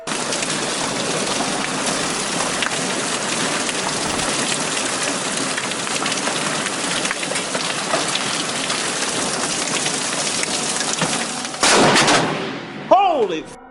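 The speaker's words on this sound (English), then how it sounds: "Here's why you should never look down during a hailstorm." Hailstones pound a surface in a dense, loud, continuous clatter, swelling into a heavier burst near the end before a brief voice cuts in.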